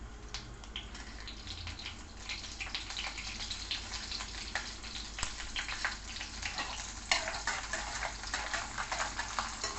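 Mustard seeds with chana dal and urad dal fry in hot oil, crackling and popping continuously up close with small sharp spits throughout.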